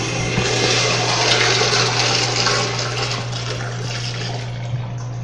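Water running into a Kohler Dexter sink among 2013 Kohler fixtures, a steady close rushing stream over a constant low hum, fading slightly toward the end.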